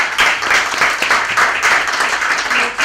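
A seated audience at a medical talk on familial Mediterranean fever breaks into dense, continuous applause, many hands clapping together at close range and fairly loud throughout.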